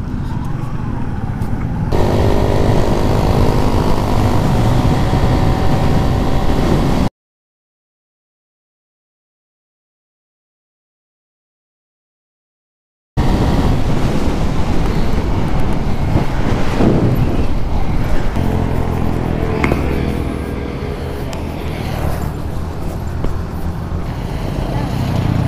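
A Honda RS150 motorcycle engine runs and revs close by during a test ride, its tone rising and falling, with a brief gap of silence partway through.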